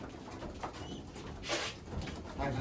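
Homing pigeons cooing inside a loft, soft low murmuring coos repeating under quiet room noise, with a brief rustle or flutter midway.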